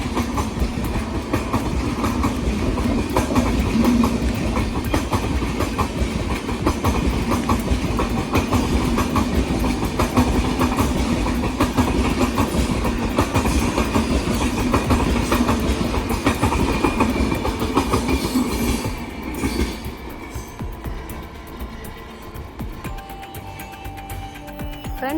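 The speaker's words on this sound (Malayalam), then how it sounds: "കണ്ടോ, ന്യൂഡൽഹിക്ക് പോകുന്ന ട്രെയിനാണ്." A long, large passenger train bound for New Delhi rolls past near a Kerala village, its wheels clattering in a steady, heavy rumble for about twenty seconds before quickly fading away.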